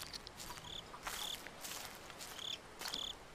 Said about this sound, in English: Shh, crickets.